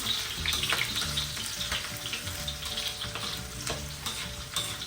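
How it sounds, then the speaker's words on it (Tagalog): A generous amount of garlic fries in hot cooking oil, making a steady, close, bright sizzle with occasional scraping stir strokes throughout, and no talk. "dahil mainit na rin naman natin mantika, maglalagay na tayo ng bawang"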